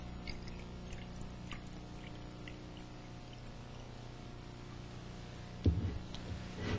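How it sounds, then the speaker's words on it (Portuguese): Water is poured into a container for a coin-and-refraction demonstration, heard as a faint, steady trickle in a quiet room, ending with a brief louder splash near the end. "Agora colocamos água"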